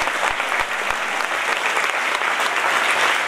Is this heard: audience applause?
yes